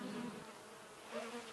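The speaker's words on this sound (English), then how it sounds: "that feeder there, it's got a few bees on it" Bees on a hive feeder frame give off a faint, low steady buzz, close but quiet, with no talking.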